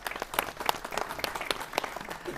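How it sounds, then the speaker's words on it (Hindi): An audience in a studio discussion on gurukul education claps to welcome a guest, a lively burst of many hands applauding together, near and fairly loud. "ताली से स्वागत कर सकते हैं।"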